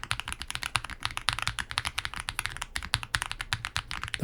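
Close, steady typing on an Iqunix Tilly 60 keyboard fitted with case foam and PE foam: a quick, even stream of crisp keystrokes with no talking.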